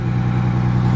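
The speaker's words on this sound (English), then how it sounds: "As you can hear that exhaust coming out of there, she's purring really nice." A heavy diesel fire truck engine idles steadily nearby, a deep, even rumble with no other sounds.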